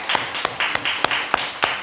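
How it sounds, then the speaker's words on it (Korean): Sparse clapping from a small church congregation welcoming first-time visitors during a Korean worship service, a handful of distinct, fairly close claps at an uneven rhythm over a low room hum. "함께 해주셔서 감사하고 박수로 환영하겠습니다"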